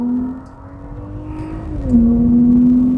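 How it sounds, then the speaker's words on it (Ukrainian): A 2018 Mercedes-Benz E400 C238 coupe with 4MATIC accelerating, its bassy exhaust droning steadily and then rising in a smooth upshifted pull, heard from inside the car without talk. "приємний такий басистий вихлоп, який не давить на мозок особливо і приємно співає"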